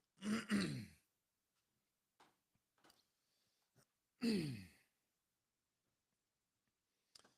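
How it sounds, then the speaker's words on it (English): A person on a live show clears their throat twice in loud, close, gravelly bursts, separated by a few faint clicks and small mouth noises in otherwise near-silence. "That's enough coughing."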